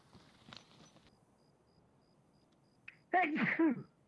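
A person sneezes once during an online Escape From Tarkov gaming session: a short sharp intake, then a loud, close, voiced burst near the end of an otherwise quiet stretch with faint background noise.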